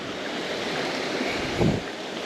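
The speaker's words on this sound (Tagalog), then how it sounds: "Lakas ng agos." A strong river current rushes steadily beneath a hanging bridge, a continuous broad roar of flowing water with a brief louder surge near the end.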